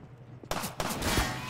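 Sharp crack of sniper rifle fire in Half-Life 2, followed by a couple more sharp impacts and bursts in quick succession after a brief quiet lead-in.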